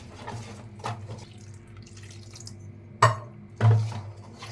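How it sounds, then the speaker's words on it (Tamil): Water is poured into gram flour batter and mixed for an evening snack, heard as a few short splashes and wet stirring knocks against a bowl over a quiet background. "தண்ணி ஊற்றி நல்லா மிக்ஸ் பண்ணிட்டேன்"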